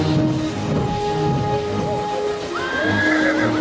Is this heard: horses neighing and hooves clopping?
yes